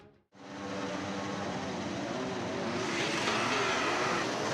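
Racing cars roll off together on the formation lap at Monaco in a racing video game, a steady dense engine roar that holds loud and continuous after a brief gap near the start.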